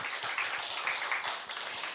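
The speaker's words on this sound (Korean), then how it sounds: "박수 한 번만 쳐주세요." Audience clapping at a book concert event, a steady two-second patter of many hands, moderately quiet and continuous without talk.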